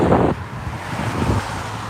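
Strong wind buffets the microphone outdoors on a freezing winter walk beside a river in Warsaw, a steady broadband roar with a louder gust at the start and another swell near the end.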